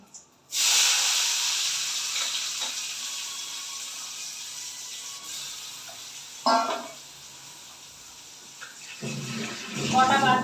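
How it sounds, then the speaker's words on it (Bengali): Chopped onion hits hot oil with a bay leaf in a home kitchen, giving a sudden loud sizzle that slowly fades, with a brief clatter and stirring sounds later and a voice speaking nearby. "এবার কুচানো পেঁয়াজটা দিয়ে দিচ্ছি"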